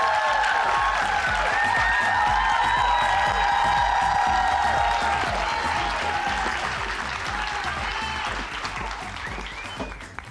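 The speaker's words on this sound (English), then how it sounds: "Let's give her a round of applause as she comes" Loud, sustained applause with a few whoops from an audience welcoming a speaker to the stage at a women's business event, clapping steady throughout and fading a little toward the end, with music or tonal sounds layered underneath.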